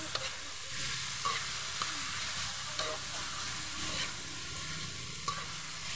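Sikwa and sardines stirred in a hot frying pan, a steady close sizzle of frying food with light scraping strokes of the spoon and occasional soft clicks, no voices.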